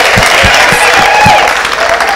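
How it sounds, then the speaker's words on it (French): An audience applauds and cheers for a live Congolese band at a concert, a dense, steady wash of clapping and crowd noise with low thumps of music running beneath it. "On applaudit très fort pour le groupe."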